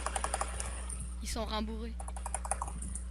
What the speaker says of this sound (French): C'est qui pioche sur son clavier?